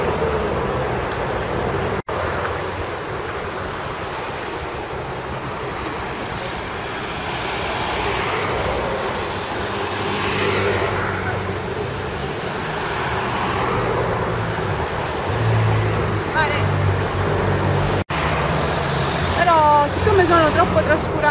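Cars pass along city streets in a continuous low traffic rumble, with a louder vehicle swelling by midway, while someone talks nearby over the noise.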